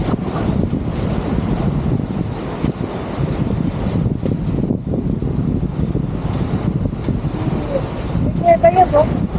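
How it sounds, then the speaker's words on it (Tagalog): Steady wind buffets the microphone with a low rumbling roar near Bukay Falls, broken by faint splashes and brief voices in the background. "Sarap na hangin."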